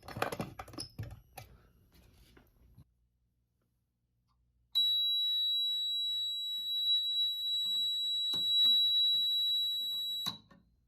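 A few faint clicks, a pause, then a Gamewell Zans 400 fire alarm panel's horns sound a loud steady high-pitched tone for several seconds with brief chirps before cutting off.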